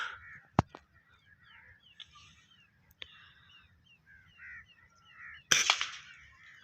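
A Diana 34 air rifle fires a single sharp shot at a dove outdoors, a loud crack early on, with birds chirping throughout and another loud burst of noise near the end.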